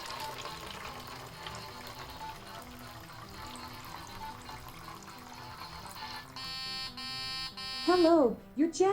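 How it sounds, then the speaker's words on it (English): A LEGO Mindstorms machine pours jasmine milk tea into a cup, giving a steady trickling liquid sound under a motor hum, followed by a buzzy electronic tone and a few brief warbling beeps at the end. "Pouring jasmine milk tea for 10 seconds."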